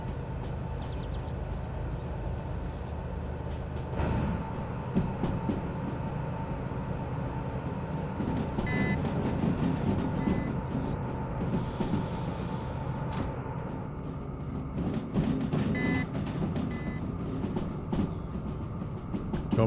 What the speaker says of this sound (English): Train still coming through that whole section.